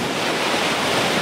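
Steady wash of waves rolling onto the stony shore of Lake Issyk-Kul, loud and continuous, with gusty wind noise across the microphone and no voices.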